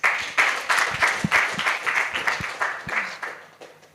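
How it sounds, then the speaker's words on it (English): An audience at a university entrepreneurship pitch day in Kigali applauds a presenter, with a short burst of fairly sparse, distinct claps that taper off after a few seconds. "A round of applause."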